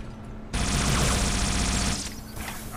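A rapid-firing weapon in Halo 2 unleashes a dense, continuous stream of fast shots for about one and a half seconds, loud and close, before cutting off into lingering echoes.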